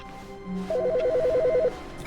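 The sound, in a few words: phone ringing in The Stanley Parable video game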